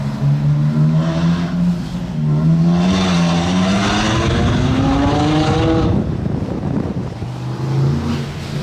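A red Dubai-plated Ferrari 812 Competizione fitted with a Brillsteel exhaust revs loudly nearby, its high-pitched V12 wail climbing in pitch, then dropping and rising again, with some wind noise on the microphone.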